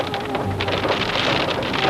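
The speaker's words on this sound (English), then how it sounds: "Yeah, it looks like it's going to be some serious rain, too." Heavy storm rain pours down steadily and close by, a dense continuous hiss of drops with low rumbling beneath that may be thunder, and no voices.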